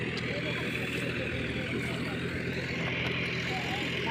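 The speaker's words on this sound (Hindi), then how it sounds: "ये देखो, ये देखो ट्रैक्टर चल रहा है दबा के।" A tractor engine working hard while ploughing a field, a loud continuous drone close by that holds steady throughout, with someone talking over it.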